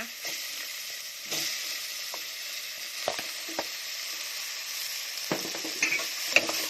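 Chili and shrimp paste frying in oil for a beef curry, a continuous bright sizzle with occasional scraping strokes of a utensil against the pan, close up and with no talking.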